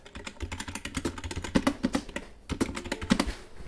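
A computer keyboard is typed on in quick, uneven bursts of close, crisp clicks, with a short pause midway before the tapping resumes.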